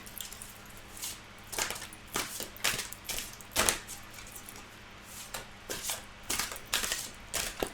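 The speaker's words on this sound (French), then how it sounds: "on va mélanger le tarot pour voir quelles sont les énergies principales pour vous" Tarot cards being shuffled by hand, a run of crisp papery riffles and slaps in irregular bursts, close and clear with no talking.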